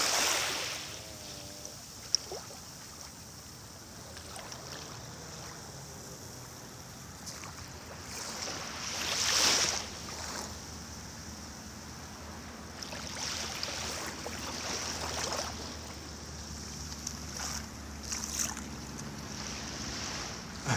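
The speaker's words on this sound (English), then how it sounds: "I think the waves are heading out though, so we should be okay." Ocean waves washing onto the shore, a broad steady surf hiss with a few louder swells building and fading, mixed with wind buffeting the microphone, no talking.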